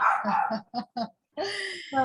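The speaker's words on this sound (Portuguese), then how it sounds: "Ou o Juninho aí latindo" A pet dog barks a few short, quick times close by, mixed in among people talking indoors.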